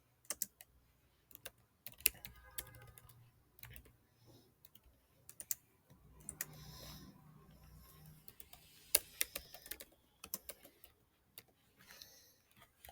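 Code being typed on a computer keyboard, quiet irregular clicks and short bursts of keystrokes close by, with brief pauses between runs and no voices.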